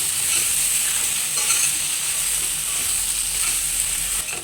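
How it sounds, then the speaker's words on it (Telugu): Pasta being stirred through spices in a hot pan, giving a steady close sizzle with scraping stir strokes throughout, no voices. "ఇప్పుడు ఈ పాస్తాకి మొత్తం ఇలా మనం వేసుకున్న స్పైసెస్ మొత్తం పట్టేటట్టు కలుపుకోవాలి"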